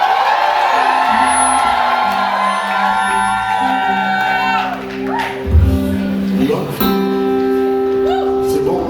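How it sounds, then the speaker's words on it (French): A church congregation shouts for joy, with loud whoops, yells and cheering swelling together over sustained music in a large, reverberant worship space. "Si tu le crois, pousse des cris de joie."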